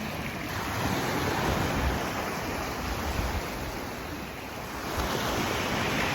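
Sea waves wash continuously onto the shore, a broad steady roar mixed with gusty wind buffeting the microphone, with no voices.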